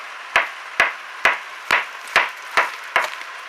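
Decomposing dolomite limestone breaks up under seven evenly spaced, crisp impacts, each a short crunchy knock, close and alone.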